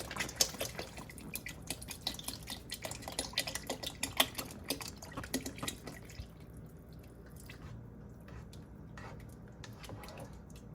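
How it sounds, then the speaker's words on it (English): A pot of clam chowder made with half and half and fresh razor clams boils with soft, irregular bubbling and popping that is busier at first and then eases off. "Pretty good boil going there."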